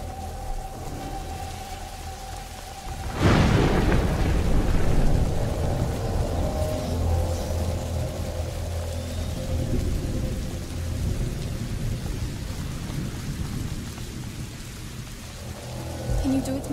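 Lightning strikes in A Plague Tale: Innocence, setting off a sudden loud, close thunder crack that rumbles on beneath steady, heavy rainfall for the remainder.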